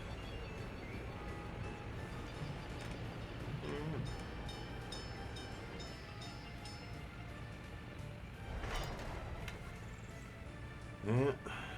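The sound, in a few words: trains running in Workers and Resources video game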